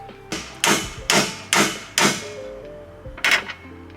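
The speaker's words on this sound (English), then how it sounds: "He's about to bash it in here and with the hammer and see if we can twist it out." Five heavy hammer blows driving a socket onto a bolt in a steady rhythm, a short pause, then one more strike; close and loud with faint ringing between hits.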